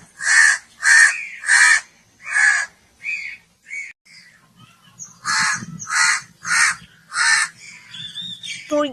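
A crow caws loudly in a cartoon story, first four harsh evenly spaced calls, then a few shorter ones, a quiet pause, and another run of five caws, with a faint low murmur beneath.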